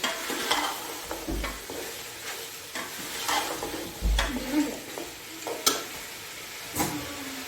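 Tomatoes cooking in a pan for beef pulao, stirred with a spoon: quiet sizzling under repeated sharp scrapes and taps of the utensil against the pan, close and intermittent, with no voices.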